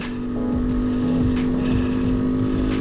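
A Kawasaki Z125 motorcycle rides through snow, its small engine droning steadily and close with a constant buzzing tone and slight fluctuations in revs throughout.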